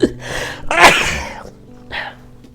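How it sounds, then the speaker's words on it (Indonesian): One loud, close sneeze from a woman with a cold bursts out sharply and is followed by a short breathy exhale, with no talking. "Langsung bersin dengan sendirinya."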